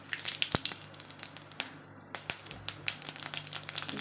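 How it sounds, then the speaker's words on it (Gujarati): Cumin seeds crackle and pop in hot oil as a tempering for a cauliflower and green pea curry, a steady close-up sizzle broken by sharp snapping bursts. "વઘારમાં જીરું નાખીશું।"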